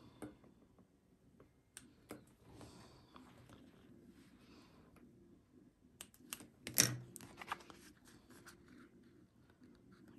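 Scissors snipping into fabric centers while sewing a small wristlet: faint, close clicks and light cuts scattered irregularly, with one sharper snip standing out partway through.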